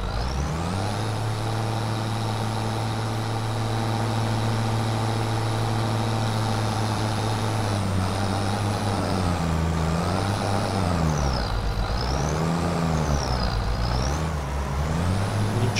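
A tractor engine in the video game Farming Simulator 25 drones steadily and loudly, its pitch holding even before rising and falling in repeated swells as the tractor works without traction beside a ditch.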